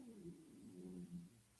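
A cat gives a low, drawn-out meow or yowl, close and fairly quiet, with a wavering tone lasting over a second and no talking.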